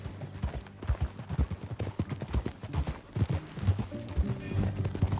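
Rhythmic hoofbeats of a galloping horse in Red Dead Redemption 2, close and steady, with faint mechanical rattling underneath.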